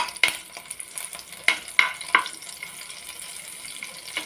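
Curry leaves dropped into hot oil in a home kitchen while cooking a suvarna gedde (elephant foot yam) dish, giving a steady close sizzle broken by a few sharp crackles and pops as they are stirred, with no talking.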